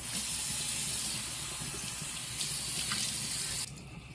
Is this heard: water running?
yes